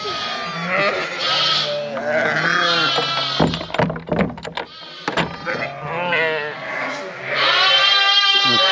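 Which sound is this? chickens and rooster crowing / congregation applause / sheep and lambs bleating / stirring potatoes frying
sheep and lambs bleating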